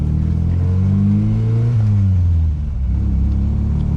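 A Miura Targa with a 1.6 engine and Cadron exhaust revs close by, its low rumbling note swelling and falling as the throttle opens and eases off, with no talk over it.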